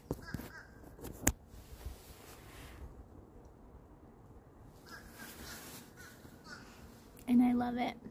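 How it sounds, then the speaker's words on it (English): Crows outdoors in the rain call with a few harsh caws scattered through the clip, some distant and one louder and closer near the end, over a soft wash of rain and wind. "Crows are having a conversation."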